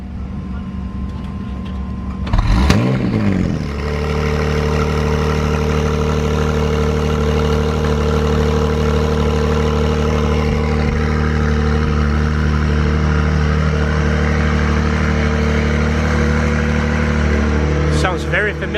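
A Honda CRX engine blips sharply once, then settles into a steady, droning exhaust note that holds for a long stretch before a final short rev. Loud and close, with voices talking over it.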